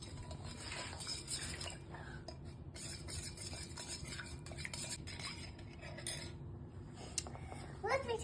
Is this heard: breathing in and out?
no